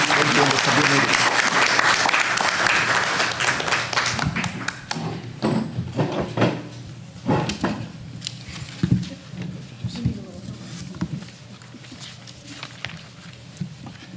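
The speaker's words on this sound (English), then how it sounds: "let's give them a round of applause for the great things that you've done in the community" Audience applause at a town council meeting, a full round of clapping for the first few seconds that thins into scattered claps, taps and shuffling as it dies away, with some voices in the room.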